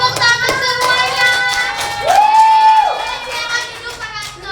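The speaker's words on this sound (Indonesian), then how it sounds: "Tepuk tangan semuanya." Classroom group claps together during a role-play session on community waste-management rules, a burst of applause mixed with overlapping voices and a sung or drawn-out vocal tone.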